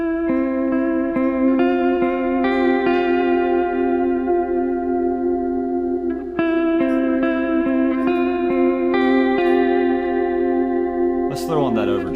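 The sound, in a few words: guitar with ambient reverb and modulation through HX Stomp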